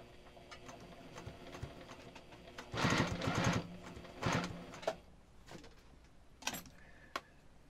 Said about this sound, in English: So I'm just going to sew right around.